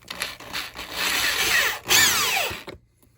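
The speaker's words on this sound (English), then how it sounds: "I'm just going to use an electric drill to drill these in" An electric drill whirs up close, driving a drywall screw while building a firework mortar, in a couple of rising bursts before stopping, leaving near silence.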